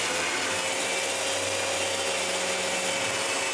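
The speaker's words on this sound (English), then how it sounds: "Then I sand everything." A power sander running steadily over glued wooden parts of a movable workbench, a constant loud whir with a smooth droning hum and no pauses, close by.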